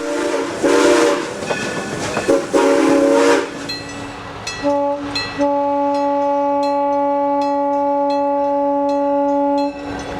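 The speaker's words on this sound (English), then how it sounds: "train continues through Brightside without stopping." A train rolls through Brightside in Niles Canyon without stopping: heavy rumbling and clatter at first, then a long sustained whistle blast that holds steady nearly to the end.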